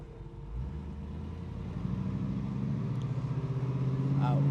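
A 1973 Pontiac Trans Am with a 455 V8 and radial tires picks up speed, its deep engine drone climbing steadily in pitch and loudness as it accelerates, heard from inside the car.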